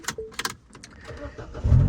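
Mini Cooper car engine turning over and starting, a low rumble rising near the end after some faint clatter, close and fairly loud with no talk.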